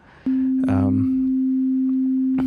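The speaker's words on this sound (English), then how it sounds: "Here we have a sine wave." A steady, pure sine-wave tone from an FM synthesizer holds at one low-mid pitch for about two seconds, with brief clicks and a short burst of sound over it.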